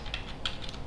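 Quick keystrokes on a computer keyboard as a command is entered, a short burst of several crisp, close clicks in an uneven rhythm with no voices.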